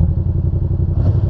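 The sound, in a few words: Yamaha FZ-07 motorcycle engine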